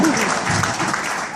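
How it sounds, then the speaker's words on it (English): Comedy club audience clapping and cheering, a short burst of crowd applause with a few voices mixed in, loud and close, lasting just over a second. "so clap to make her feel good"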